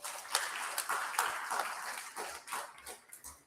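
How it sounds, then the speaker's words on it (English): An audience of alumni clapping at a university festival gathering: brief, uneven applause from a crowd, moderately distant and fairly soft. "Give yourself a big round of applause."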